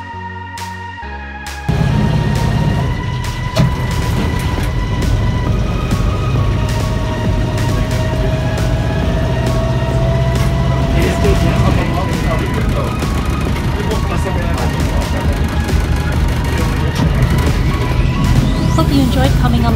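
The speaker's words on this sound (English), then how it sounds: "On this return trip, we're taking the smaller of the tugboats." A small tugboat's engine drones steadily and loudly throughout a scenic ride in Vancouver, kicking in with a sudden rise in rumble after a quieter start and holding a constant hum.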